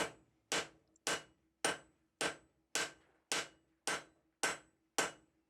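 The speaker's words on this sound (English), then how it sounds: "I'm also trying out my new 4-pound cross peen that I made in an earlier video" A 4-pound cross peen hammer strikes hot metal on an anvil in ten sharp, evenly spaced ringing blows about half a second apart. The blows are close and clear, with no talk.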